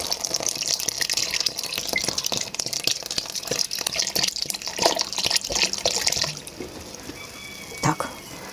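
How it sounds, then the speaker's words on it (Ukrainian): Vinegar pours steadily into a pot of boiling sweet chili ketchup for several seconds, a rushing, splashing stream that stops, leaving softer bubbling and a faint clink. "я вливаю оцет"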